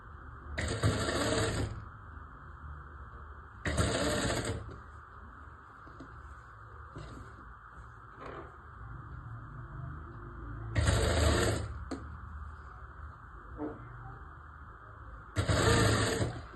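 Sewing machine stitching the neckline trim of a one-year-old baby's frock: four short motor-driven bursts of rapid stitching, close by, separated by quieter pauses with faint handling clicks and a low background hum.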